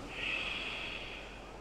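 A steady, breathy nasal exhale from ujjayi pranayama breathing during a beach yoga session, close and even, lasting a couple of seconds with a soft hiss and no talk.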